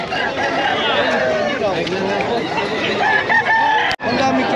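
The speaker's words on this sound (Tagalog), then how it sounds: "daming manok dito" Roosters crow repeatedly at a pet market, amid a busy, noisy background of chatter and bustle, several drawn-out calls overlapping near and farther off.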